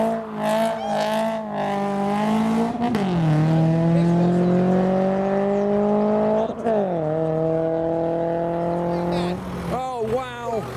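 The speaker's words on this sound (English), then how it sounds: "This BRZ's been sounding pretty nice throughout the day." Subaru BRZ engine revving loudly and close as the car drives out of a car show, rising and falling through several throttle blips and shifts before a final burst of revs.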